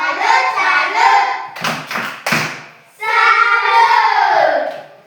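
A class of children does a rhythmic group clapping chant, a cheer for a team: loud sung voices, then a short burst of several sharp claps and taps, then the chanting resumes.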